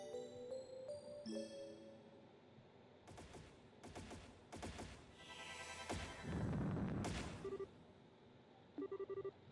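Repeated sharp bursts of gunfire in the Trails in the Sky Second Chapter video game, cracking over game music and ambience, with a loud rumbling blast midway and a closing rapid volley.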